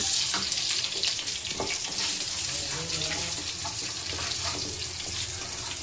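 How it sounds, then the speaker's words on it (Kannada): Two teaspoons of coriander seeds fry in hot oil on a low flame, a dense, steady sizzle with scattered small crackles throughout, close and continuous, with no speech. "ಎಣ್ಣೆ ಕಾದಿದೆ ಈಗ ಎರಡು ಟೀ ಸ್ಪೂನ್ ಧನಿಯಾ ಕಾಳು ಹಾಕೋಣ ಹುರಿಲಿಕ್ಕೆ"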